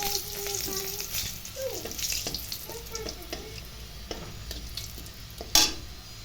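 Oil sizzles steadily in a pan as two dried red chillies fry for a rohu fish curry, with light stirring scrapes and a brief clatter near the end; a voice speaks briefly.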